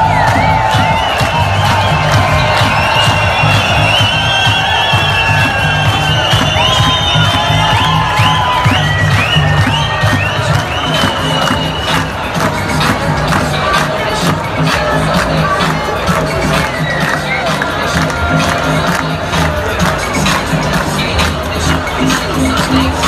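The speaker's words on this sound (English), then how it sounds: "Tens of thousands came out this weekend to protest around Dam Square in Amsterdam" Tens of thousands of demonstrators protesting vaccine mandates around Dam Square in Amsterdam, a dense continuous roar of crowd noise with scattered cheers, whoops and shouting, steady and loud throughout.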